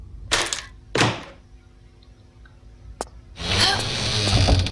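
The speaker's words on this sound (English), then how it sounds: "Use the crowbar on this crate to open it." Wooden crate being pried open with a crowbar in the Tomb Raider game: two sharp thunks, then a single crack, followed by a longer louder splintering, rattling burst, with no talk.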